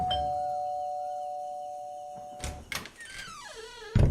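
A doorbell sounds in a Hindi audio drama with a sustained electronic chime that fades out, followed by a few soft door-like knocks and thuds, close and otherwise quiet.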